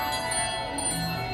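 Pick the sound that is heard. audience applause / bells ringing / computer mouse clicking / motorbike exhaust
bells ringing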